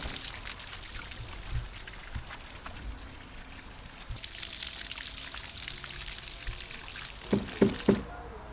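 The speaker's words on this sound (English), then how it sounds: "Got a little bit of water action happening here. An irrigation pipe, and that must be the main there." Water pours and trickles from a broken irrigation pipe in a front yard, a faint, steady gurgling flow with a few louder splashes near the end.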